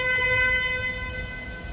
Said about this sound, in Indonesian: single tone, jadi klaksonnya 1.